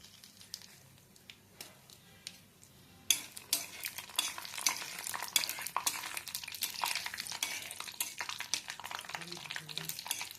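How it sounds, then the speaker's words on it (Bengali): Black cumin and dried red chilies fry in oil in a cooking pan for a pointed gourd mash. The sound starts as quiet stirring, then turns to a close, steady crackling sizzle with scraping from a spoon. "কালো জিরেটা ভাজা ভাজা হয়ে গেছে। এবার দিয়ে দেবো একটু শুকনো লঙ্কা।"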